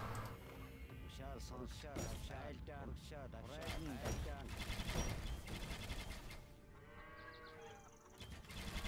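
Units in Age of Empires II: Definitive Edition destroy a building amid a dense, busy battle din, with rapid clattering hits, crashes and animal-like cries layered together at steady loudness for several seconds.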